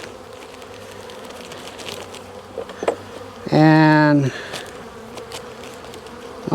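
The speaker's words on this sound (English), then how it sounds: "And shake the bees out." Honeybees buzz loudly in a sudden close burst for about a second as they are shaken out of a hive during winter feeding, against outdoor background noise and a brief word of talk.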